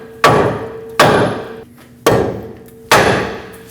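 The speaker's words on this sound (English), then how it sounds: "Now use a hammer and tap the knuckle right here to break this free." Four sharp metallic hammer strikes on a Nissan Frontier steering knuckle ring out about a second apart, each leaving a brief ringing decay; close and loud, no voices.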